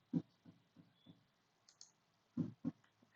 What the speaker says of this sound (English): Click on new item